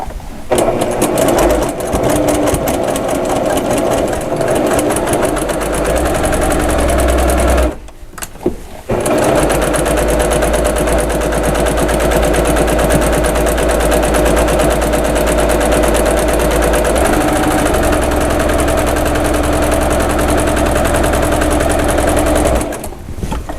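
A BL Accomplish sewing machine hems fabric in a loud, close, continuous whir, broken once by a brief pause before the stitching resumes at full speed.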